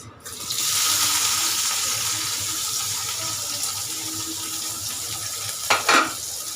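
Chopped onion and tomato hit hot oil in a pan for a fish bhuna, setting off a loud, steady broadband sizzle that holds throughout, with a couple of brief clatters near the end.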